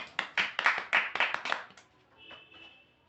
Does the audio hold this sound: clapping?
yes